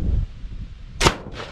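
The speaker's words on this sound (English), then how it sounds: "We have cannons. There it is. Let's wait and listen for the boom." A propane bird-scaring cannon on a wheat farm, set to drive off blackbirds, fires one sharp, loud boom that stands out against faint low wind rumble and fades with a brief echo.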